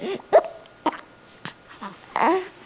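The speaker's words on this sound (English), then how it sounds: "Is it because you're hiccuping?" A baby hiccups several times in short, sharp bursts spaced about half a second to a second apart, close and fairly loud, with small breathy vocal sounds between them and no talking.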